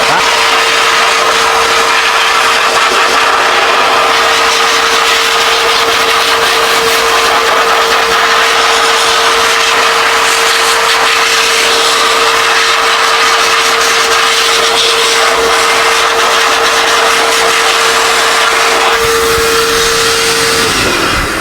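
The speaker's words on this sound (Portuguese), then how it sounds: "Eu utilizo aqui um secador de pet shop, ó." A pet-grooming blow dryer runs continuously, loud and close, with a steady high whine and broad rushing air while drying a metal part during a home metal-spraying setup; the motor cuts off near the end.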